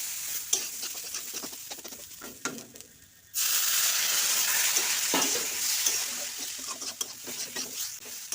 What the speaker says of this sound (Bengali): আমি জল নেব একসঙ্গে দেব না আস্তে আস্তে করে দেবো দিয়ে নাড়াচাড়া করতে হবে